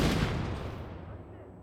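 A grenade blast in the military shooter Six Days in Fallujah, a heavy booming explosion that hits hard at the start and then rumbles and fades away over about a second and a half.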